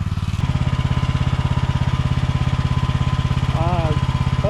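An excavator engine idles in an overgrown property being cleared, a loud, steady rhythmic chug starting after a brief quieter moment, with a voice speaking over it near the end.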